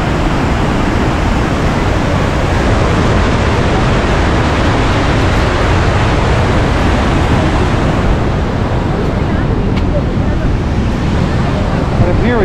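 Gullfoss waterfall in Iceland roars as a dense, constant broadband rush, loud and unbroken throughout, with wind buffeting the microphone.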